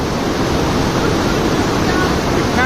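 Clear mountain water flowing in Ladakh's Nubra Valley, a loud, steady rushing wash of broadband noise lasting throughout with no break, close to the microphone and heard alone.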